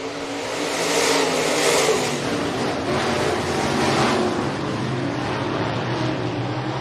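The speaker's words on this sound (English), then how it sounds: "Heat race number 2 in our Papik Motors USREB Modifieds." Modified race cars in a heat race at Rapid Speedway, their engines blending into a broad roar that swells and fades twice as the pack sweeps past at a moderate distance.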